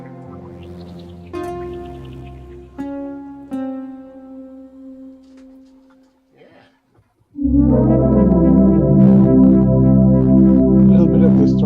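A synthesizer plays several sustained tones that decay, then after a brief near-silence a loud, dense buzzing chord with slight distortion swells in and holds.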